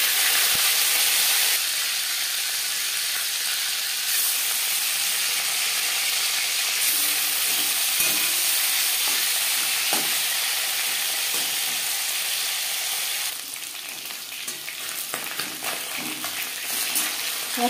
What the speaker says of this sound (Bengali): 4-5 চামচ রিফাইন্ড অয়েল গরম করে নেওয়ার পর প্রথমে দিয়ে দেবো মাছের মাথা